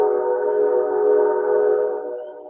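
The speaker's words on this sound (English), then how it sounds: "It's just the train horn." A train horn sounds as one long, steady, loud blast that holds for about two seconds before fading slightly, with no other sounds.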